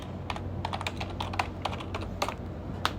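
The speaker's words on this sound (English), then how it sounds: "you can go to like on the browser for your choice and type textures" Typing a search query on a computer keyboard, a quick run of light key clicks in an uneven rhythm over a low steady hum, close and moderately quiet, with no talking.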